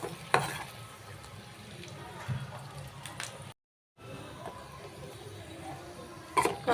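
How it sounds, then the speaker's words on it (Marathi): Chopped onion sautés in a pan until brown, giving a soft sizzle with stirring scrapes. There is a brief silent gap and a few louder clatters near the end. "कांदा हा चांगला परतून घ्यायचा असं ब्राऊन होईपर्यंत"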